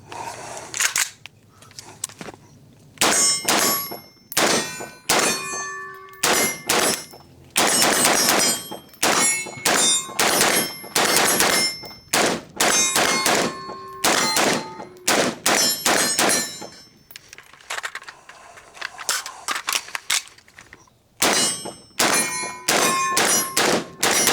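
Pistol shots from a Boise Black Rifle Cheap Bastard pistol ringing off steel targets, a long run of sharp cracks and metallic clangs in quick bursts with brief pauses between strings.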